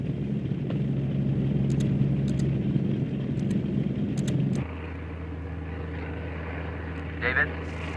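A hurricane research aircraft flies into a storm, its steady engine drone and propeller hum filling the cabin. The tone shifts midway to a lower, smoother hum, and someone talks over it throughout.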